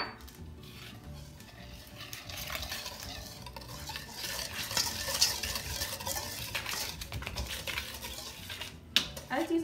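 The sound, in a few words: whisking dry ingredients for vegan donuts in a bowl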